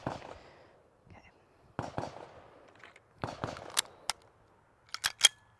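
Sharp gunshot reports from another USPSA shooter at a practice range, several scattered cracks of varying loudness, some distant and some closer, with faint talk in the background.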